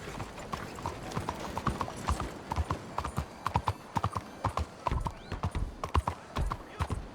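An antsy horse in Red Dead Redemption 2 stamps and shuffles its hooves in an uneven clip-clop rhythm close by, with a brief whinny among the steps; no one talks.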